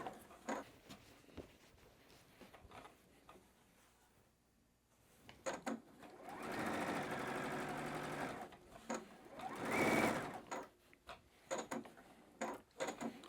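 Sewing machine stitching the seams of a batik quilt, running in two loud, sustained bursts of rapid mechanical chatter between quieter clicks and handling of the fabric.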